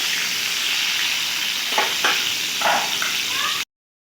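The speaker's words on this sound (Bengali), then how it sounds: "পটলগুলোকে আমি খুব ভালো করে ভেজে নেব।" Loud, even sizzle of pointed gourd (potol) slices frying in hot oil, with a few brief stirring scrapes near the end, close up, no voices, then a sudden stop.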